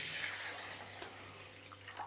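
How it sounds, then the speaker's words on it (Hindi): Water pours steadily into a bowl of mixed lentils, a continuous close splashing hiss with a few louder gurgles near the end. "अब इसमें मैं खुला पानी डाल दूंगा।"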